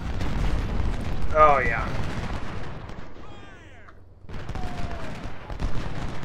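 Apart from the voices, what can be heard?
gunfire and artillery fire in Ultimate General: Civil War video game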